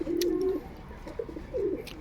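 Matajh-breed pigeons coo close by in two low, throaty bursts separated by a short pause, clear and alone with no voices.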